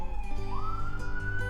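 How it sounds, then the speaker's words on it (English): A siren wails faintly in the distance and sweeps upward in pitch over a brief moment, heard alone with no talk. "sorry about the siren."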